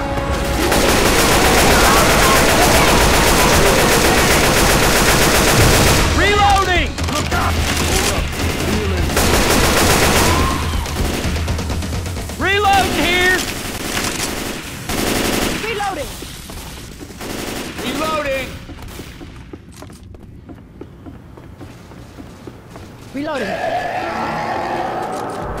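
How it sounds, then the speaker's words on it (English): Dense gunfire pours at the Tank in Left 4 Dead 2: sustained bursts of automatic and rapid rifle shots, loud and close, with shouted callouts over the shooting and a brief lull near the end before firing resumes. "You shoot the tank. Kill him."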